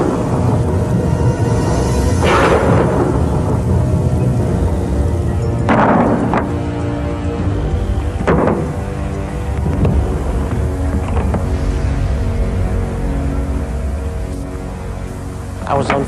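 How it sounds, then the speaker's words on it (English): A thunderstorm rumbles on with rolling thunder breaking out several times over a constant wash of wind and rain, loud and close. "this is some storm we're having, huh?"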